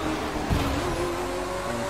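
Race cars overtake in The Crew 2 video game, including a Mercedes-Benz 300 SLR, with a steady close engine whine and a brief surge as one car passes, and no speech.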